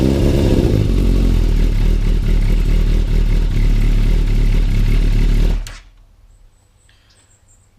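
A Yamaha YZF 600 Thundercat motorcycle engine runs loud and close with a rough, steady idle and clatter, then abruptly drops away to near quiet near the end.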